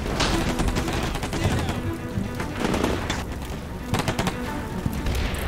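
Dense, sustained gunfire from a Combat Mission Shock Force 2 battle between Syrian defenders and American Marines on a hillside, with overlapping bursts and thuds rolling continuously at steady loudness throughout.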